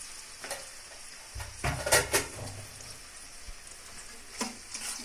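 Fish frying in a pan, a soft continuous sizzle with a few louder spattering bursts and a low thump partway through, heard alone without talk.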